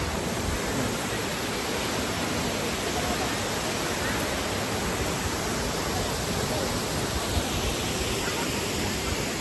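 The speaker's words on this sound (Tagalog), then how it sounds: "So, nandito po tayo sa Mantalupan Waterfalls." Mantalupan Waterfalls in Cebu, Philippines, a dense, continuous roar of falling water filling the whole scene, loud and unbroken with no voices.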